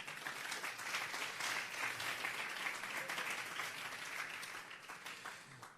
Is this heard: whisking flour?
no